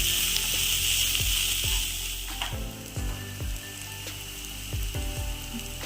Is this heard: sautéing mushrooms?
yes